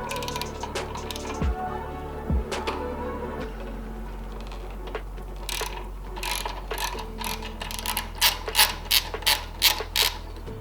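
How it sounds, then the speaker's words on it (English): A wrench ratchets on the fork blade pinch bolt of an Indian Scout Bobber, opening with a few metallic clunks and then a run of quick, close clicking strokes that grows louder toward the end. "First thing to do is to take the pinch bolt off of the fork blade."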